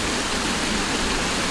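A flood-swollen farm creek rushing hard, a steady, loud broadband roar of fast-flowing water with no break, close and filling the whole scene.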